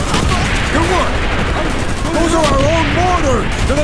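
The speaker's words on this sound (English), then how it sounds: "Those are our own mortars!" Mortar and gunfire in Call of Duty: Black Ops, a loud barrage of rapid shots and booming impacts with whistling tones overhead, constant and close throughout.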